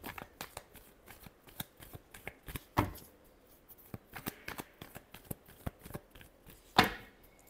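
Tarot cards are shuffled in quick crisp riffles and slaps, an irregular run of sharp close clicks with two louder bursts, free of any talk.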